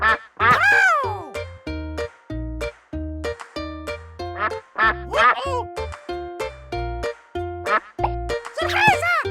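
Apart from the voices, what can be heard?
duck quacking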